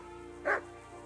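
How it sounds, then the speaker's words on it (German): A single short dog bark in the video game Kingdom Come: Deliverance, one clear yip-like woof rising briefly over a low steady game ambience. "Die Hunde bellen schon."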